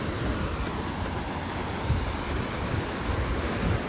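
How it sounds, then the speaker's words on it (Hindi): Water rushes fast out of the Bharamal regulator in a tiger reserve, a loud, continuous broadband roar with no voices, close and unchanging throughout. "देखिए कितनी तेज़ी से पानी निकल रहा है यहाँ पर"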